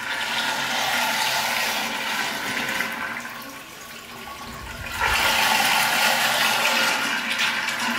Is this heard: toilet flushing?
yes